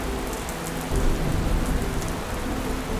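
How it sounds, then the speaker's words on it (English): Steady heavy rain pouring down, a dense continuous hiss with a low rumble underneath, with no voices. "It's still raining."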